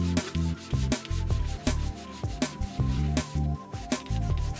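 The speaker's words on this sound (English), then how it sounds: "Step one, as usual, is just some Windex to clean off the dirt." A cloth rubs the plastic case of a Macintosh LC monitor with generic window cleaner in quick, rhythmic back-and-forth strokes, a close, scratchy swishing with no voices.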